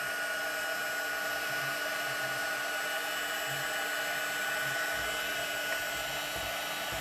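A handheld embossing heat tool blows a steady, loud whirring stream of hot air onto a heavy layer of embossing powder at close range, unbroken for the whole stretch with no talking.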